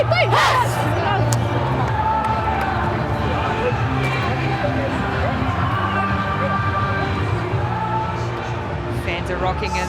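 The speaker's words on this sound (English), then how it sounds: "Fans are rocking in the crowd" A rugby sevens crowd at the Dubai Sevens roars and cheers in a big stadium, a loud swelling babble with whoops, while a commentator talks over it.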